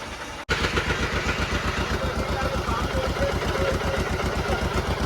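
The diesel engine of a shrimp trawler at sea runs loud and steady in a fast, even chugging rhythm after a brief cutoff near the start, with someone talking over it.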